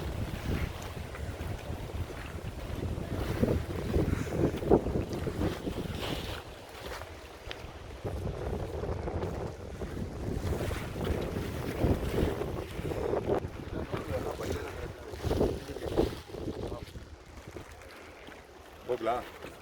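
Strong wind gusting on a boat trip in Kerala, roaring loudly and steadily against the microphone with a low buffeting rumble throughout, people talking intermittently over it.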